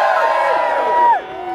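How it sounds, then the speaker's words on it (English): A crowd at the RAG Jailbreak 2013 charity race gives a brief, loud, close cheer with whoops that cuts off quickly. "I'd quite like a big cheer for Jailbreak 2013,"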